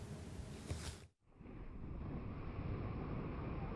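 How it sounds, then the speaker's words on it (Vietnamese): Large waves of almost two metres break against Nha Trang beach in a steady roaring wash, cut off by a sudden break near the middle before the surf noise returns at full strength. "Những con sóng cao gần 2 mét liên tục vỗ vào bờ"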